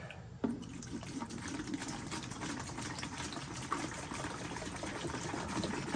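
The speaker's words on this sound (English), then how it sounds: "I'm just gonna fill it up with the 3-gallon white vinegar" White vinegar poured into a bucket for flushing a Rinnai V75i tankless water heater, a steady close liquid gush with a faint hum beneath, continuous and unbroken, no talking.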